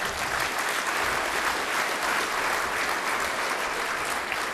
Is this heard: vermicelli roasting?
no